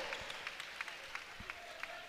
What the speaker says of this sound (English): Big round of applause for Kevin Samuel.